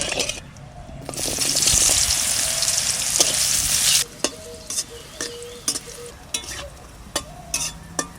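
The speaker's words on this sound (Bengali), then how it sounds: "সয়াবিনটা ভেজে নেব, তেল দিচ্ছি, সর্ষের তেল" Soybean chunks frying in mustard oil with salt and turmeric: a loud, close sizzle swells for about three seconds, then gives way to scattered stirring scrapes and clinks with quieter crackle underneath.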